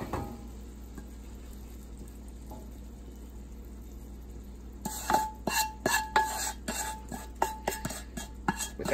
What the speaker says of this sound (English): Gonna dump in our brown butter mixture